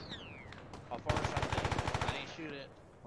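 Automatic gunfire in the video game ARMA 3: a rapid, evenly spaced burst of about a dozen loud shots lasting around a second, with voices talking faintly before and after.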